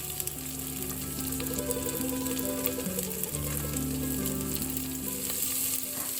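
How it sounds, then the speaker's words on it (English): Ginger garlic paste and onions fry in a pan with a dense, continuous sizzle, close and steady throughout, while soft instrumental music plays underneath. "Next goes in the ginger garlic paste, which we'll fry to a golden color"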